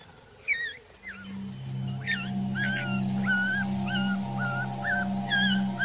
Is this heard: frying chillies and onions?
no